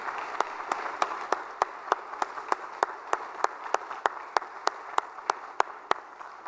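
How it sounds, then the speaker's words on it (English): A crowd applauding steadily for several seconds at a Missouri Senate retirement ceremony, with a few sharp, evenly spaced claps standing out above the dense clapping. "Let's give a big round of applause"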